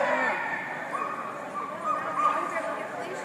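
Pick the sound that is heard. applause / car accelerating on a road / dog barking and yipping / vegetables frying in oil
dog barking and yipping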